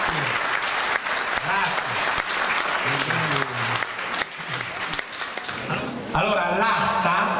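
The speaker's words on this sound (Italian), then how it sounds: "Un bel applauso alla dottoressa," An audience at an Italian comedy art-auction show applauds in sustained, loud clapping, while someone speaks over it and the applause swells again near the end.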